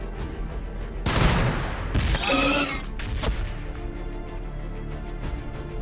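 Gunfire in the Warhammer 40K strategy game Battlesector, with loud bursts of shots and booming impacts clustered in the first half, then lighter scattered fire fading under a steady low rumble.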